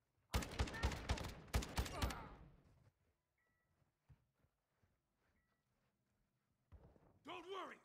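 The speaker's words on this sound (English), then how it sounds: "You are taking effective fire." Gunfire in a Call of Duty video game, a loud close burst of rapid automatic shots lasting about two seconds, followed by scattered distant thuds and a voice speaking near the end.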